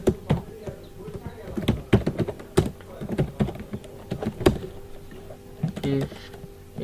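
Keys on a computer keyboard clatter in irregular clusters of clicks as C code is typed during a programming tutorial, close and moderately loud, with occasional soft talking.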